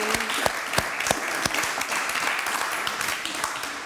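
An audience applauds steadily for the author Helen FitzGerald at a BigLit 2022 event at the Gatehouse. The clapping is dense and sustained, with a few sharp individual claps standing out near the front.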